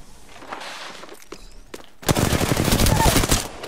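Rapid automatic gunfire in Apex Legends during a squad firefight, a dense loud burst of shots erupting after quieter scattered pops and continuing steadily to the end.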